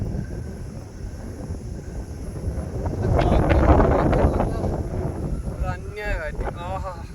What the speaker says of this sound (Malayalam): അന്യായ കാറ്റ്.